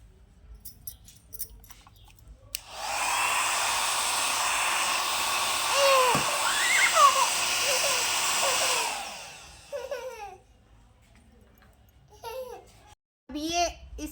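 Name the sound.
hair dryer running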